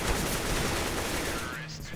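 Rapid gunfire from Counter-Strike: Global Offensive rattles continuously in a dense, loud burst of shots with a steady wash of noise throughout.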